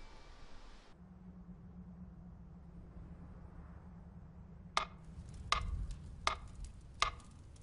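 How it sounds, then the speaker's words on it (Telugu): In a horror thriller film, a clock ticks during a hypnosis session, four sharp, evenly spaced ticks arriving after several seconds of quiet hum, crisp and close in a hushed room. "ఈ టికింగ్ శబ్దం వినపడుతుందిగా"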